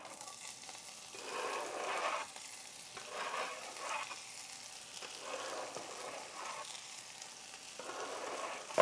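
Alliums hit a very hot, lightly smoking pan with fat and sizzle in repeated surging bursts, a soft hiss swelling and easing several times as they are stirred.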